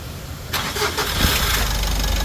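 A Mitsubishi L300 Euro 4 diesel with an EGR fault cranks briefly with a few rhythmic starter pulses, then catches and settles into a steady, close, rough diesel idle.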